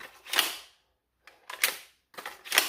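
Three sharp plastic clicks of the magazine release on an X-Shot Pro motorized piston pump AEB blaster, close and loud, spaced about a second apart with no talking.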